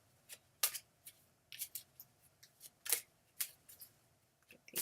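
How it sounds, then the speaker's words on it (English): A deck of oracle cards is shuffled by hand in quiet surroundings, giving soft, irregular riffling bursts and flicks separated by short pauses. "Get these shuffled up a bit more."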